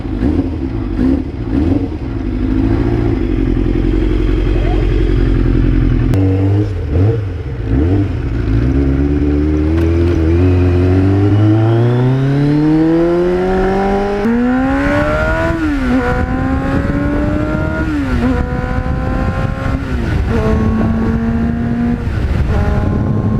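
A restored 1989 Kawasaki GPX750R motorcycle engine idles low, then revs up through rising gears as it rides off, the pitch climbing and dropping with each shift, loud and close.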